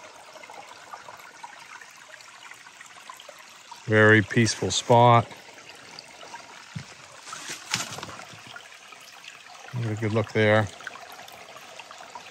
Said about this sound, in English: I found this mountain brook flowing down across the property